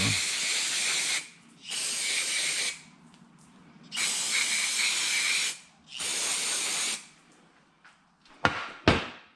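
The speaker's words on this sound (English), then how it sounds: "Run some brake cleaner through here" Brake cleaner hisses from an aerosol can onto a 2017 Polaris Ranger 900XP in four sustained bursts separated by short pauses, loud and close, followed by a couple of sharp knocks.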